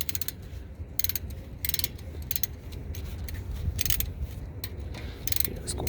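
Ratchet wrench removing 17mm brake caliper bolts on a 2008 Acura MDX, bursts of rapid metallic clicking in short repeated strokes, close and clear over a low background hum.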